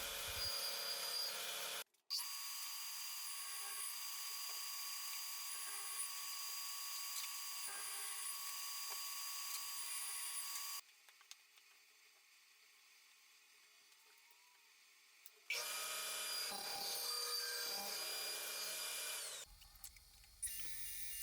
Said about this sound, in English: I used a scrap piece of wood to dial my table saw in for a groove that will house the back panel.